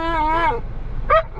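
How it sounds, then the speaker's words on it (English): A dog lets out two short, whiny barks close by at an iguana, the first drawn out and yelping, the second a brief yip after a pause. "Hey, Wiggles, you're barking."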